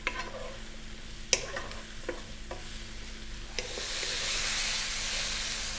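Onion, garlic and mushrooms fry in a pan over slightly above medium heat, with a few sharp utensil clicks and stirring scrapes before a broad, steady sizzle swells louder in the second half.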